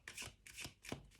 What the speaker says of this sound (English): I will shuffle again to see the challenge